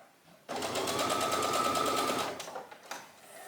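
A sewing machine runs in one continuous rapid stitching burst, basting a dress bodice to its lining, close and loud, then stops and leaves faint handling noises.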